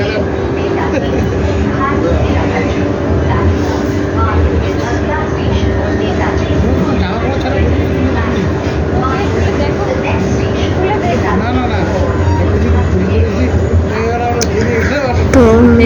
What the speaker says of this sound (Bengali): তো মেট্রোতে করে যাচ্ছি